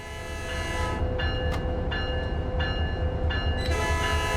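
A Metrolink MP36PH locomotive horn in Train Sim World 5 sounds one sustained, loud chord that holds steady over a low diesel rumble, with the engine drone continuing throughout.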